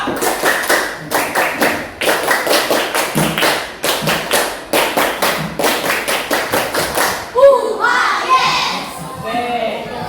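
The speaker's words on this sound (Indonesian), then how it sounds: "coba tepuk pramuka" Indonesian scout clapping chant, tepuk pramuka, performed by a group before a classroom presentation: loud, tight bursts of claps in a repeating rhythmic pattern, followed by a brief stretch of voices at the end.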